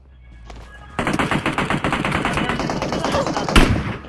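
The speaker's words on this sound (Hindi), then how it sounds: "कितना गोली मारे जा रहा, मारे जा रहा" Gunfire in the PUBG Mobile battle royale game: a brief quiet lead-in, then a sustained loud burst of rapid automatic shots with a heavier blast near the end.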